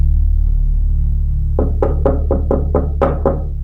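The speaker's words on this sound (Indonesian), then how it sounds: "Suara ketukan lambat itu terdengar lagi." Seven slow, evenly spaced knocks on a door land after a stretch of low droning ambience, each sharp and fairly loud.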